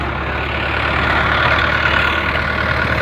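Three tractors chained together run their engines to tow a trolley stuck in a harvested paddy field, a loud, close, steady diesel rumble and drone with no talk over it.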